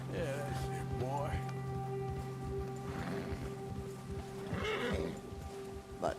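A horse in the Red Dead Redemption 2 video game neighs in two loud whinnies against hoofbeats and rainy ambience, with people talking over the game sound.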